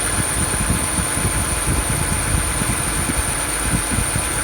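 Quiet, steady idle of a Lexus with a Toyota 3.5 engine and slightly worn motor mounts, a low even hum with faint vibration, close by and alone.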